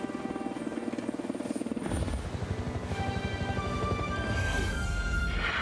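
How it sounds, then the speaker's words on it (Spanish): A helicopter's rotor thumps in steadily, loud and close, with the whine of its engine growing stronger as it approaches. "Es un helicóptero, lo sé."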